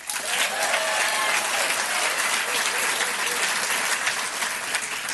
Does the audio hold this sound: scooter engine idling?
no